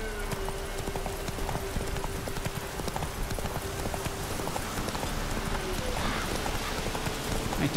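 Horse hooves patter in the video game The Witcher 3: Wild Hunt, a dense rapid clopping over a steady background wash, fairly close.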